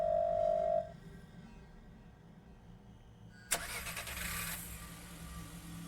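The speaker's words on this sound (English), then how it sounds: "The sound of a car starting coming from outside the door." A car engine starts outside a door in the game Firework: after a brief tone and a quiet pause, the engine cranks sharply and then settles into a steady, bright idle, heard alone.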